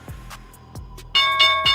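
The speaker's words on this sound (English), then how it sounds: "there's the opening bell" The stock market opening bell rings in a quick series of bright metallic strikes, each with a short decaying ring, growing louder and denser near the end.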